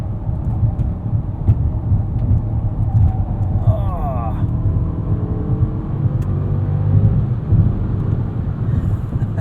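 A 2021 Mercedes-Benz S580 4MATIC on winter tires pulls hard in Sport Plus mode, its engine note a steady, loud low drone with rising tonal sweeps as it climbs through the revs.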